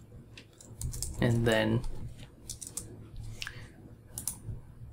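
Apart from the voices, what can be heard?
typing a command on a computer keyboard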